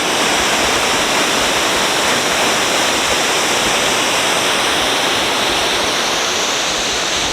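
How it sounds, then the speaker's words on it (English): A big spring waterfall fountain rushes in a steady, loud, unbroken roar of falling water, close by and continuous throughout, with no voices. "you can hear the water rushing"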